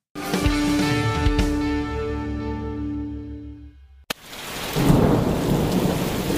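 Thunder rumbles and cracks over a heavy rainstorm, with one long rolling peal fading out, then a sharp clap followed by dense, loud rain hammering a surface.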